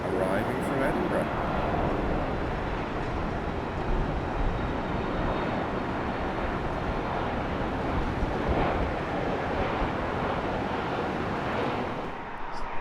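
British Airways airliner arriving at Heathrow on a flight from Edinburgh, a loud, steady broadband jet roar with a wind-like rush that holds evenly for the whole stretch and eases slightly at the very end.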